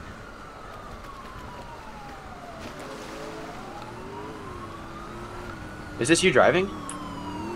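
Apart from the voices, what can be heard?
police sirens approaching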